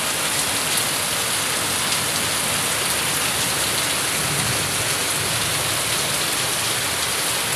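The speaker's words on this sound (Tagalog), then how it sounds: "Napakalakas ng ulan." Heavy rain pours down steadily during a rainy-season downpour, a dense, loud, continuous hiss of drops hitting surfaces with no break and no voices.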